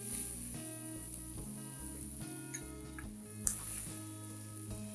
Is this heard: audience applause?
no